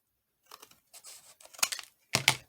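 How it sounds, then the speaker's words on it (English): Scissors cut the corners of a folded paper note pad: a few close, crisp snips and paper rustles in short bursts with quiet gaps between them. "and cut my corners"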